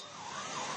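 A fire engine siren wails steadily as emergency vehicles arrive at the site where an Air India plane crashed onto a hostel, with traffic rumble underneath and no talk.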